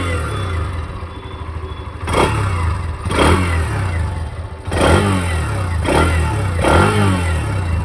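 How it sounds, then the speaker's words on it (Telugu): Hero Xtreme 125cc motorcycle engine idling steadily close by, then revved several times in short repeated bursts, each rise and fall clear and loud with no voices. "ఫ్రెండ్స్, విన్నారు కదా ఇంజన్ రిఫైన్మెంట్ ఎలా ఉందో."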